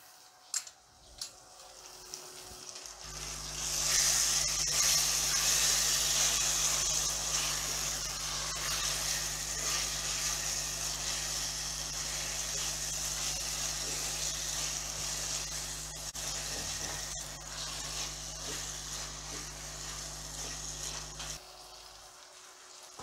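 Ground garlic and ginger tipped into a hot pot for Ethiopian tripe stew, a few clicks then a steady, fairly loud frying sizzle that runs for about twenty seconds and cuts off near the end, with no talking.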